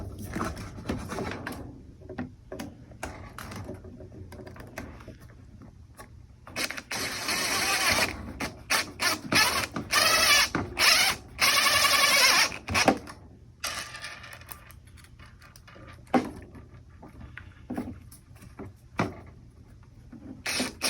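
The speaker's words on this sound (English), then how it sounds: "What I'm going to use are 3/4 inch self-tapping screws. They'll tap right into the aluminum." Self-tapping screws are driven into an aluminum frame, with irregular clicking, grinding bursts and mechanical clatter at close range and no voices.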